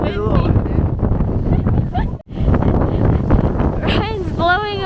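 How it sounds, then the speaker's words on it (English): Strong gusty wind on the Mallorca coast roars and buffets against the microphone in a steady, loud rumble while people talk over it. "It's so windy."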